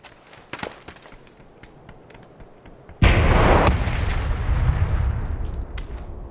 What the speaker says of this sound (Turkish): Roketler moketler patlıyor.